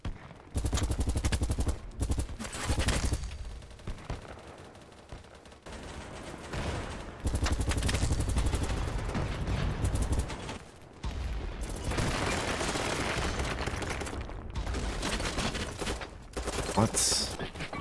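An M249 machine gun fires in long rattling bursts in the Battlebit video game, loud and close, with only brief gaps between volleys.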